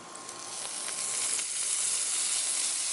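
Chopped cilantro sizzles and crackles in a hot cast iron pan after a ribeye steak, a steady broad hiss that swells slightly and holds alone with no talk.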